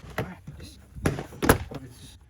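Plastic door panel clips on a 2018 BMW door pop loose in a few sharp close snaps and thuds as the trim panel is pried away by hand.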